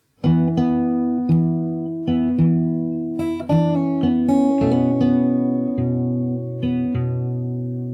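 The next passage of a song is picked fingerstyle on a guitar, each plucked chord or bass note sounding and decaying in a slow, even pulse, close up and alone.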